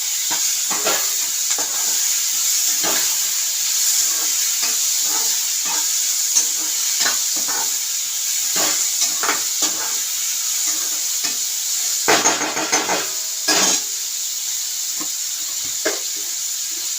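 Onions and tomatoes fry in a pan for a pesarattu filling, giving a steady loud sizzle broken by repeated stirring scrapes and knocks of the spoon.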